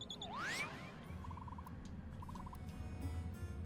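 A glitch bird in The Plucky Squire video game gives a loud, sweeping gobble. Two short bursts of rapid clucking follow over a soft background bed.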